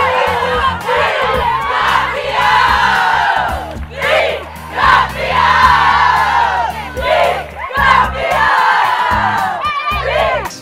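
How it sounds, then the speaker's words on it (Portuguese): Ceará's women's football players and their supporters roar a loud champions' chant together after the final whistle of the state championship. A dense crowd of voices swells and dips in rhythmic bursts throughout. "as atletas comemoraram com a torcida que foi prestigiar o time e soltaram um grito de campeão"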